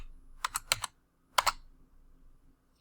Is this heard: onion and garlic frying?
no